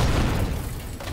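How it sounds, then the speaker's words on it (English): A deep, booming rocket explosion in the video game Rock 'n' Rail rumbles loudly and then fades, heavy in the low end. "These cross-map rockets are just insane."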